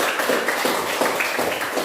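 A classroom of students applauds, a dense, steady patter of many hands clapping at once, evenly loud and continuous throughout the short burst with no voices standing out.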